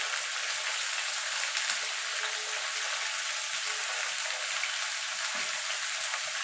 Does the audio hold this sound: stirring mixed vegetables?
yes